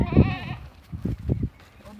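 A goat bleats loudly and close at the start, then gives a few shorter cries while someone talks over a farmyard full of goats.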